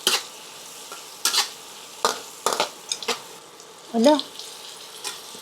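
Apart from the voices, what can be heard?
bacon frying in a pan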